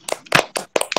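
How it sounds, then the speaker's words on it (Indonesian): A classroom group claps hands together in several short uneven bursts, close and fairly loud, with brief gaps between the volleys. "Tepuk tangan dulu untuk semua."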